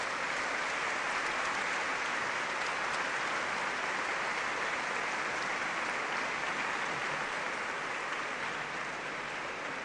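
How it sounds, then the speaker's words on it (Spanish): A concert hall audience applauds the composer at a symphonic band competition, a long, even, sustained round of clapping that fills the whole stretch without speech, somewhat distant and soft. "les voy a pedir un fuerte aplauso para él, Francisco Bor."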